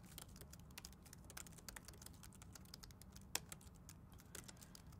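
Code is typed on a computer keyboard in a rapid, irregular stream of soft clicks with one sharper keystroke near the end, faint and close, with no talking.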